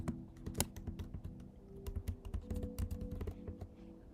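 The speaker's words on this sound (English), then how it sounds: "Sorry, I know the typing is loud." Rapid keyboard typing, close and steady, with clustered keystrokes clattering continuously and no speech.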